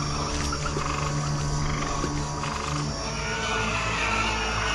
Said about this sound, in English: The stinking blood waters suddenly produced millions of frogs.